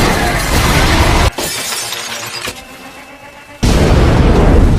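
A loud explosion in a film scene, heard as a dense roaring blast with shattering debris, a brief drop into a rumbling lull, then a second sudden burst of roar.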